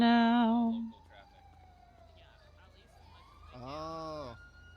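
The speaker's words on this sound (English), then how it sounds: "I hear sirens in the distance." Police sirens in the video game GTA V, a faint wailing tone drifting from far away, heard between and under bursts of talking voices.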